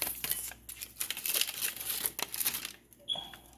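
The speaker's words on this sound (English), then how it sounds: "just peel the paper away" Hot sublimation paper is peeled away from a freshly pressed tumbler, giving close crinkling and tearing rustles in quick bursts, ending with a brief higher scrape.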